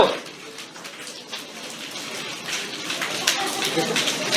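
A crowd makes a rapid, patter-like rustle, imitating falling rain with quick claps or finger taps. The sound swells slightly toward the end.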